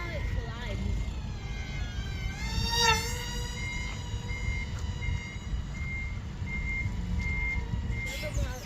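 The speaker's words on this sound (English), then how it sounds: "Sorry about the annoying beeping we're getting." A Park 10 Raptor F22S RC plane in flight: a steady, high-pitched electronic beeping repeats at a regular rhythm over a loud buzzing whir, with voices talking in the background.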